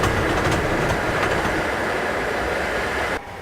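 A train running on rails in the Train Simulator 2014 game, an ICE-style passenger train passing Wilhelmsburg, giving a loud, continuous rolling rumble with faint rhythmic clicks that cuts off abruptly near the end.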